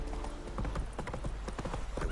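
Horse hooves clip-clop in a video game, a quick rhythmic run of hoofbeats with a whinny, close and fairly loud over game sound and music.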